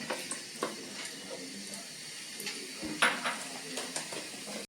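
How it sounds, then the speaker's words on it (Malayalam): Cashews fry in hot ghee for semiya payasam and are stirred, with a soft, fairly quiet sizzle under scattered light clinks and scrapes of the stirring spoon. "ഒരു പിടി കഷ്ണണ്ടി ആ നെയ്യിലോട്ട് നമ്മൾ ഇട്ട് കൊടുക്കാം എന്നിട്ട് ജസ്റ്റ് ഒന്ന് ഇളക്കാം"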